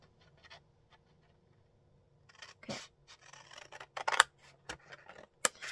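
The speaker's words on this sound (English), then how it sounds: "I'm gonna use my new scissors" Quiet scissors snipping through paper, a few soft crisp cuts and rustles after a near-silent start.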